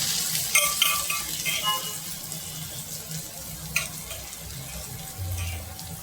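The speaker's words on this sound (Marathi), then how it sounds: "आता आई भाजी परतून दाखवेल तुम्हाला" Bamboo shoot vegetable being stir-fried in a kadhai, with a steady sizzle and intermittent scraping and clinking of a spatula against the pan, moderately close and without talk.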